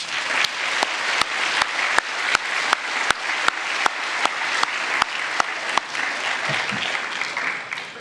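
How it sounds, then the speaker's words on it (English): A school awards-day audience claps steadily for about eight seconds, a dense even patter of many hands with a few sharp louder claps standing out, the applause thinning slightly near the end. "Let's give them a round of applause"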